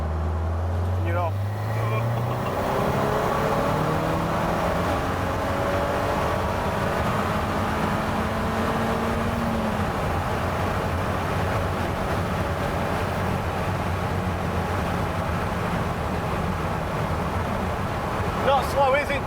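A KTM X-Bow 2.0 TFSI pulls hard in fourth gear, its engine note climbing steadily as it accelerates, then holding a loud, raw drone, with people talking over the noise inside the open car.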